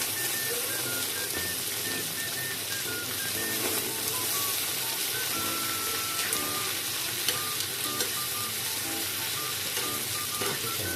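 Pork liempo sizzles loudly on a hot sizzling plate in a continuous crackling hiss, with faint scraping and clinks of utensils mixed in.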